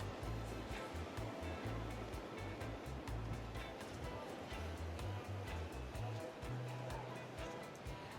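Surf washes onto a beach in Cancun, Mexico, a continuous soft roar of breaking waves heard from nearby at low level, with no talk.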